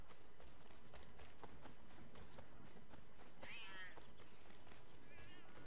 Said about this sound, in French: Et j'ai même entendu un petit chat.